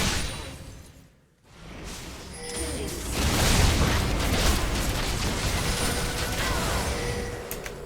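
A turret destroyed in the League of Legends video game: after a brief lull, a burst of crumbling, explosive game effects rises and holds as a dense rumbling clatter under background game sounds.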